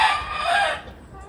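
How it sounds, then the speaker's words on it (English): Farm chickens, with one rooster crowing in a single loud, drawn-out call that fades away, close by and heard on its own. "chicken, chicken."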